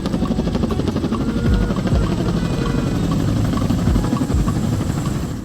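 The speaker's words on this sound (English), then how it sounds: "The choppers flew in formation low to the crowd and swooped by" Military helicopters flying low in formation over an ANZAC Day parade crowd, a loud, steady rotor thump and engine roar that fills the whole stretch without a break.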